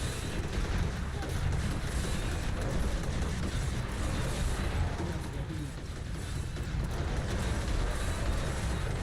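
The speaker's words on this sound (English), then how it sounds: "Let's see what an explosion this creates" Explosions from a Witch Doctor's attacks in the video game Diablo 3 rumble on without pause, a dense, loud barrage of booms and crackling blasts filling the whole stretch.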